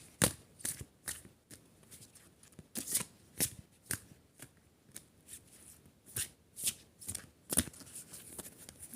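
A deck of cards is shuffled up close in a quiet room, giving repeated soft riffling bursts and papery slaps in an uneven rhythm over roughly nine seconds.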